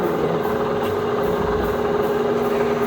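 An Enco 20 x 60 engine lathe runs with a steady mechanical hum and whine, an even drone holding from start to finish with no talk over it.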